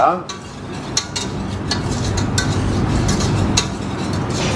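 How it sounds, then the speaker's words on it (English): A spoon stirs a flour-and-butter roux in a pan for béchamel sauce, giving repeated close scraping strokes with light sizzling underneath, steady and moderately loud. "Stir it up well until the roux loosens from the bottom of the pan."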